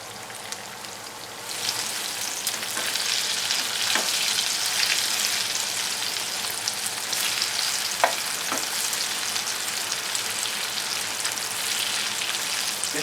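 Plant-based organic firm tofu fries in a pan, a steady crackling sizzle that swells after a quieter start and holds, with occasional sharper pops and spits.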